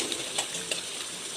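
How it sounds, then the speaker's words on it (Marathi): Finely chopped onion fries in hot oil tempered with cumin, mustard seeds and curry leaves, giving a soft continuous sizzle with a few light stirring scrapes, fairly quiet and alone. "तेल गरम झालं की त्यामध्ये जिरे मोहरीचा तडका देऊन त्यामध्ये कढीपत्ता टाकून बारीक चिरलेला कांदा घालायचा"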